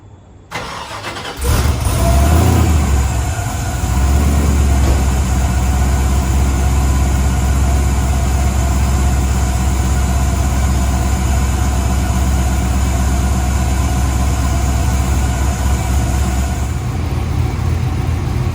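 A car cold start with an aftermarket muffler: a sharp starter crank and a loud catch into a low, heavy, steady idle rumble that holds strong and close for the rest of the clip.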